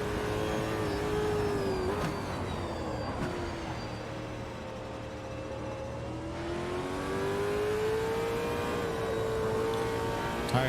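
A Super V8 race car engine in Automobilista 2 on the Hockenheimring short track, a steady loud onboard drone that rises and falls gently with throttle and gear changes, with brief dips around shifts and no talk.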